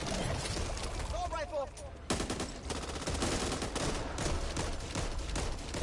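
Rapid gunfire from a gun in the video game Back 4 Blood, a dense continuous burst that fills the whole stretch, loud and close, with a player's voice faintly mixed in.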